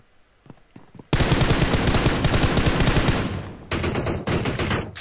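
Sustained automatic gunfire from PUBG Mobile, loud and dense bursts running for several seconds after a brief quiet start, with a short break before firing resumes.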